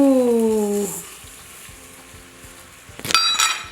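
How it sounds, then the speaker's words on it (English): Raw brown turbinado sugar hitting a very hot Instant Pot insert, with a short sizzle that fades. A sharp clatter of metal on the pot follows near the end. "This is half cup of raw brown sugar or turbinado sugar. I'll add in the sugar."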